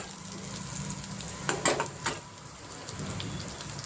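Shallots and curry leaves sauté in a pan for goat brain pepper fry, giving a steady low sizzle and patter, with a few brief clinks of a utensil against the pan in the middle.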